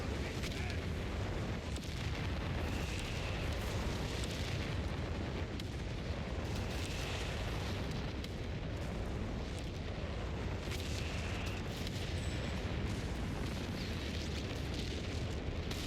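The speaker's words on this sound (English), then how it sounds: "Good arty strike kills that unit." Artillery strike explosions rumble on without a break in the Company of Heroes 3 strategy game, a dense, heavy low roar of blasts layered with distant booms and faint battle noise, steady and loud.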